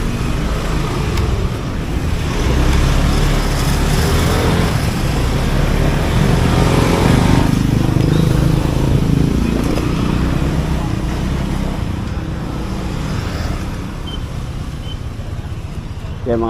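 Motorcycles ride along a road on a group trip near Maragondon, giving a steady, loud engine drone and road rumble throughout, with wind noise and people talking over it.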